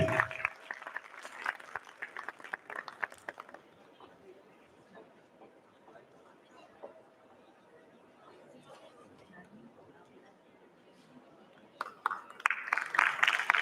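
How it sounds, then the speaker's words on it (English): Applause at a university Foundation Day ceremony with a book unveiling, bursts of clapping and crowd chatter at the start, fading to a quiet hall before clapping swells again at the end. "With a huge round of applause, let us celebrate this moment."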